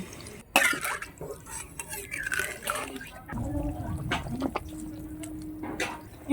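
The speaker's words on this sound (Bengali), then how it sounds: "এইবার পরিমাণ মতন জল দিয়ে দিচ্ছি" Water is poured into a pot of katla fish curry with taro, giving intermittent, fairly quiet splashing and trickling close by over a faint steady hum.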